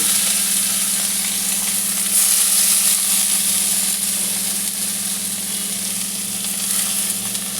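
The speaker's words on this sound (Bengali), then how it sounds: "আমার তেলটা গরম হয়ে গেছে, আমি খুব সরু সরু করে কেটে নিয়েছি। এটাকে আমি আগে ভালো করে ভেজে নেব।" Thinly sliced bitter gourd frying in hot oil, a loud, even hiss and crackle that holds steady, close up with a faint underlying hum and no voices.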